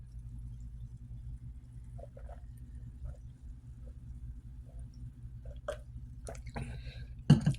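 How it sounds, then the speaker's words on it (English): Drops of iodine fall into a glass of seltzer water, a few faint isolated drips and small fizzy pops over a low background hum, with sharper splashy sounds near the end. "I'm going to drop 5 drops of iodine into my water, into my seltzer"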